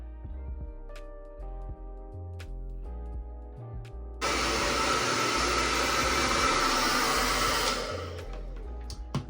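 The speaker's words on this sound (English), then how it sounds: "I'm just gonna take my blow dryer and" A hair dryer switches on partway through and blows with a loud, steady roar, cutting off just before the end after a quieter stretch of household sounds.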